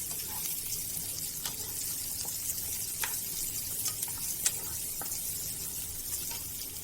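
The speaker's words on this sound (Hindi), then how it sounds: "प्याज को थोड़ा सा हम भूनेंगे, ट्रांसलूसेंट हो जाएगा, हल्का गुलाबी हो जाएगा" Onions sautéing and being stirred in a pan on high heat, a steady soft sizzle with scattered light scraping ticks of the spoon, alone and moderately quiet.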